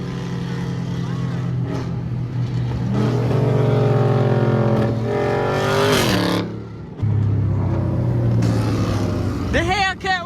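A Dodge Hellcat and a Camaro race side by side, their engines revving loudly and close by in long surging pulls, with a brief dip before the power comes back, while voices talk over the roar.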